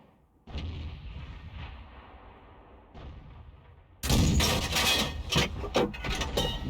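Tank shell explosions in World of Tanks: a dull distant boom opens, then a loud sharp blast hits midway, followed by a rumbling crackle of further gunfire and impacts.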